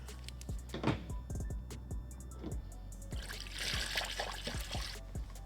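Fluid trickles and pours steadily through a funnel into a BMW B58 engine during a coolant and oil service, a close, continuous liquid stream with small glugs, mostly alone.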